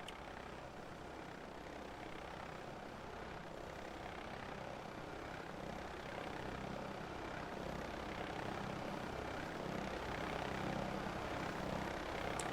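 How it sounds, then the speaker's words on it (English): Aircraft engines rumble in a steady, fairly distant drone during the finale of the Cosford Airshow, rising slightly in loudness toward the end with no speech over it. "The aircraft are now preparing to land"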